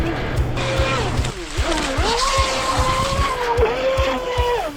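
A small high-revving RC stunt boat motor whines, its pitch rising and dipping as it throttles, over splashing water, with rhythmic thumps underneath.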